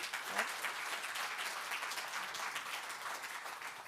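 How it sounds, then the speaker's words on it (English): A live podcast audience applauds its guests, producing continuous, even clapping that sounds somewhat distant and quiet. "Please give a warm round of applause to Dino Sofos"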